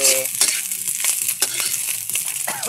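Golden snails (susong bukiki) being sautéed in a pan, with steady close frying sizzle and repeated scraping, clattering stirs of a spatula against the pan, no voices.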